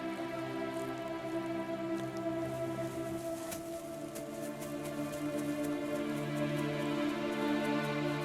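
Steady rain falls across the open East African savannah during the long rains, a soft even patter with scattered drips against a low, constant background hum.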